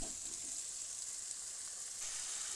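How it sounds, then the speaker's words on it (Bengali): Onions frying in a pan for a curry, a soft, even sizzling hiss held steadily throughout, quiet and close with no other sounds. "সুন্দর মতো দেখছেন যে পেঁয়াজ ভাজি হচ্ছে"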